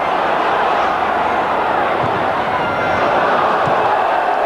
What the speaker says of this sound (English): the crowd oohed and awed